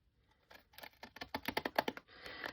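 Scissors snipping through paper ephemera at a crafting table, a quick run of crisp, rhythmic cuts close by after a soft start, ending in a brief rustle of paper.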